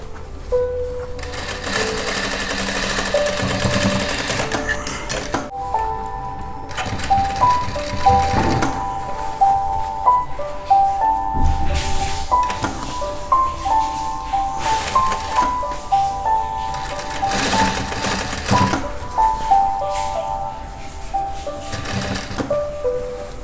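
Sewing machine stitching thick denim jeans, a loud steady mechanical whir running in repeated bursts with short pauses between runs, close and alone without talk.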